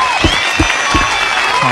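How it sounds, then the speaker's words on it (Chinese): A studio audience at a Chinese entertainment talk show claps together, a short burst of crowd applause with a few louder hand-clap accents near the start. "请掌声鼓励。"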